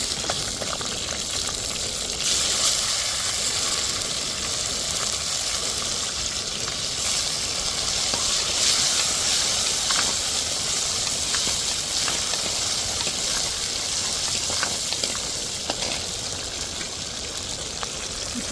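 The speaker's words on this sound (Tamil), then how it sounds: "இப்போ நான் ஒரே ஒரு தக்காளி மட்டும் வெட்டி சேர்த்துக்கிறேன் தாளிப்பில்." Chopped tomato sizzling in hot tempering oil on a gas stove for a village-style kuzhambu, a continuous bright frying hiss with scattered crackles and pops, steady and close, no talking.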